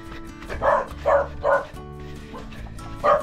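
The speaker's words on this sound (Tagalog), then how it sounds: "Ang daming aso." Several dogs bark near Taal Lake, about five loud, close woofs spaced irregularly, with soft yips and whimpers between them and faint background noise.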